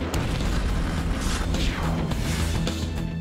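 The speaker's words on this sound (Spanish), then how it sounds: "Cuando una serie de explosiones desencadena una mortal onda expansiva" A dense, continuous rumble of booming explosions at a fireworks factory fills the air, loud and sustained with deep low roar and scattered sharper bursts and crashes layered on top.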